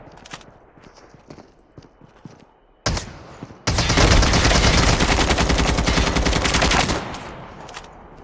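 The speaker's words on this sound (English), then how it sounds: "I ran up while I was hip firing, as we call it." M4 assault rifle hip-fire in COD Mobile: scattered faint shots and footsteps give way to a loud single report near three seconds, then a sustained full-auto burst of about three seconds before quieter sounds return.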